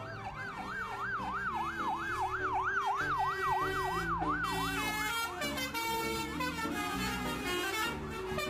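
An ambulance siren wails in a rapid rising-and-falling yelp over steady traffic rumble, fairly close and continuous.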